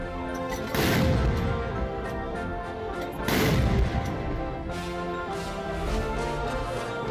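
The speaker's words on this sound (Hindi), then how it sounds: "हर तोप से सलामी के दौरान 3 राउंड फायरिंग की जाती है" Two loud, booming artillery gun salute blasts a few seconds apart during a Republic Day ceremony, each with a rolling echo, over a steady background murmur.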